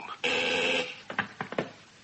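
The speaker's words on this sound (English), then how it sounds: "It all began with a phone call." A telephone rings once with a sustained electric bell tone, followed by a few short clicks and knocks of the receiver being picked up, close and clear in a radio drama.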